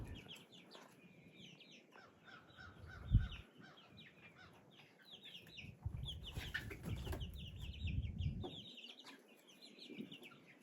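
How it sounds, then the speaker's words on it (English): Chickens cluck and squawk near a composite deck while being coaxed outside, a busy run of overlapping calls with low shuffling and thumps underneath. "Get out here, you chickens!"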